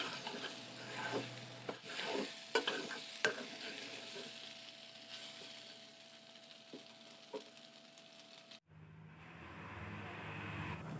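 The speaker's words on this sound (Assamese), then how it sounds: "এতিয়া পাস্তাখিনি ঘন ঘনকৈ লৰাই থাকিব লাগিব, নহ'লে পাস্তাখিনি তলত ধৰি যাব পাৰে।" Pasta fries in a pan over a medium gas flame, a steady sizzle broken by repeated clinks and scrapes of a spoon stirring, which stop briefly before the frying continues.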